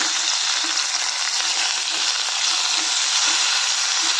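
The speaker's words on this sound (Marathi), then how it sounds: "आता हे थोडंसं परतून घेऊया आणि कुकरचं झाकण लावून एक शिट्टी करून घेऊया" Onion, tomato and chopped eggplant sauté in a pressure cooker pan, giving a loud, even sizzle close by with soft, regular scrapes of stirring underneath.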